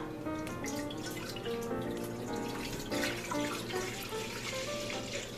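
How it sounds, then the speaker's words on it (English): Steady pouring and splashing of a gallon of milk into a pot, a continuous stream at moderate closeness with no talking. "pour your entire gallon of milk into your pot."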